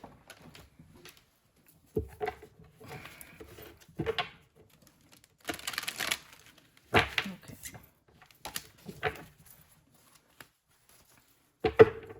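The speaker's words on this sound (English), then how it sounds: "Let me pull some cards, and then I will." Tarot cards being shuffled and pulled from a deck, heard as soft papery riffles and flicks in scattered bursts, each a second or so long, with quiet gaps between them and no talking.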